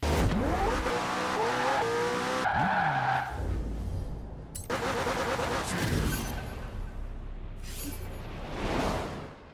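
A race car in the Forza video game drives around a racetrack with revving engine tones, loud tire squeals and skids, and whooshing passes, all without any talking.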